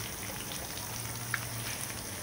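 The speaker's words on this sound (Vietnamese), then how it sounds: "Mình chiên cho nó vàng lên, nó tăng hương vị của cá bạc má chiên sả của mình." Vegetarian mackerel-style fish frying with onion, lemongrass and turmeric in a pan, a steady soft sizzle and crackle with a faint low hum, continuous and even at close range.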